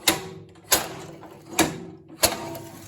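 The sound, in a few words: Craftsman snowblower drive handle pulled, actuating cable and idler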